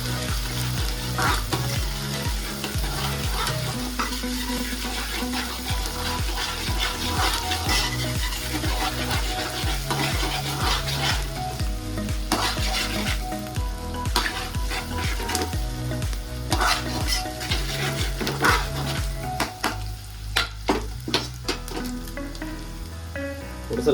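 Chicken with onion and green chilli sizzles loudly in a pan as it is stirred, with constant frying crackle and repeated scraping strokes over steady background music.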